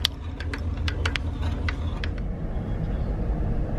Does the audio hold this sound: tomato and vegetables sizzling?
no